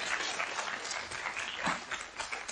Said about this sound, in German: Die Lilienthaler klatschen viele.